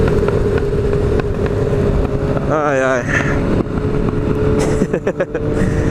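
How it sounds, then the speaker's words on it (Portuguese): A motorcycle engine runs loudly right nearby, a constant throbbing drone with slight rises in pitch, while a voice briefly speaks over it. "o cara do lado aqui acho que tá querendo mostrar da moto dele"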